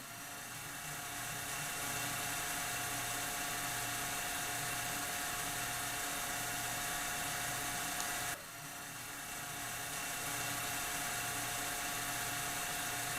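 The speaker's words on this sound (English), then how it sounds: "the DC motor is rotating at 1800" A DC machine motor in an electrical lab spinning at 1800 RPM: a constant high whine and hum, steady and continuous, with a brief dip partway through before settling back to the same even drone, no talking.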